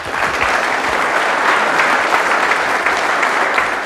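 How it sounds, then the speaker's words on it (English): A crowd at a 2014 talk applauds Michael Schratt: dense, steady clapping from many hands holds at an even, fairly loud level throughout, with no voices over it. "give a big round of applause for Michael Schratt"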